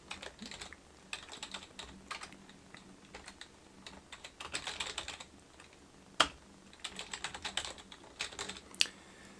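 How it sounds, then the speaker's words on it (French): Someone types text on a computer keyboard. The close, irregular clatter of keys comes in bursts with short pauses, and there is no talking. "On va taper du contenu."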